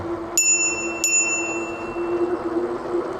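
A bicycle bell on a forest preserve trail rings twice in quick succession, bright and close, each ding decaying over a steady background hum.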